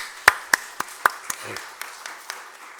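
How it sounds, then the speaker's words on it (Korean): A few people in a church congregation clap sparsely, with distinct individual claps spaced unevenly over a quiet background and a brief low murmur between them. "우리 큰 박수로 환영하겠습니다."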